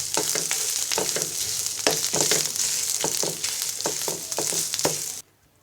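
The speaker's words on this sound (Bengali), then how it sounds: "এবার আমি লাউ পাতা বাটা দিয়ে দিব। এবার পেঁয়াজগুলোর সাথে ভালো করে মিশিয়ে নিব।" Bottle gourd leaf paste is stirred into browned onions frying in a pan, a continuous sizzle broken by regular scraping clacks of the spoon, and it ends abruptly in near silence.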